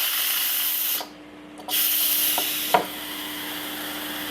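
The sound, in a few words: steam venting from an Instant Pot pressure release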